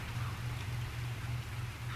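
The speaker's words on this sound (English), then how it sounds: "so it's foggy and raining." Soft, steady rainfall in a foggy ARK Survival Evolved game world, a faint continuous hiss with no voices over it.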